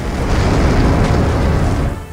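A loud explosion in the Russia–Ukraine war zone, heard as a heavy, continuous low boom and rumble that holds steady for about two seconds before easing off, with no voices.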